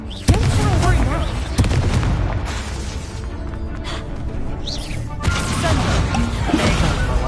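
Confringo fire-spell blasts in Hogwarts Legacy on PS5 go off as several sharp booming bursts with crackling tails, separated by gaps and mixed with game sound and voices.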